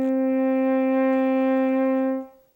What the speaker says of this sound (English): the G. G is another note with no fingers, and it's even higher than the E and higher than the F.